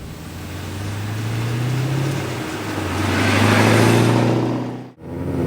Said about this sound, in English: Out behind the wheel, the Z06,